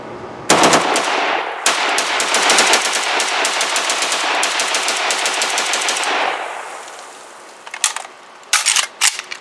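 A Cugir WASR-10/63 Romanian AK rifle fires long, rapid bursts outdoors, each shot sharp and close. The shots carry on steadily for several seconds, then a short pause is followed by a few more scattered shots near the end.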